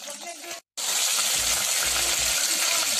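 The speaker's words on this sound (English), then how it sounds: "It's need to deep fry until it's golden brown." Lumpiang Shanghai, Filipino spring rolls, deep frying in hot oil, giving a steady loud broadband sizzle that stops for a brief gap and then resumes, with low bubbling thumps underneath.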